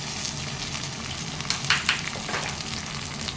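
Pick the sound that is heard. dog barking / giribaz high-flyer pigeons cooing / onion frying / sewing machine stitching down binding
onion frying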